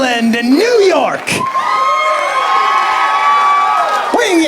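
Wrestling arena crowd booing at a women's match, a loud sustained mass of voices with rising and falling jeers and shouts, close and dense, with a brief dip before swelling again.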